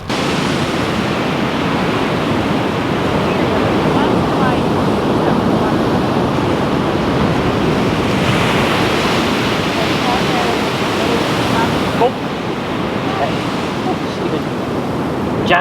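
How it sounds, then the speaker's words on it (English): Ocean surf washing steadily onto the shore at the Fort Pickens area of Gulf Islands National Seashore, a continuous broadband roar that stays loud and even for the whole stretch, with a slight surge and dip near the end and no voices. "we'll go watch the waves crash on the shore and fill our souls with the sound of the ocean."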